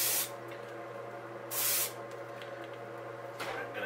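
Spray painting a walleye crankbait fishing lure with an airbrush gives three short, loud bursts of hissing spray, each about a quarter to half second long. Between the bursts a quieter steady hum from the compressor carries on, and nobody speaks.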